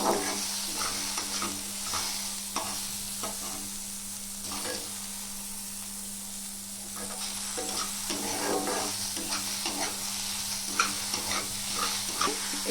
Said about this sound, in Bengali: বেশি ফ্রাই করব না হালকা একদম হালকা ফ্রাই করব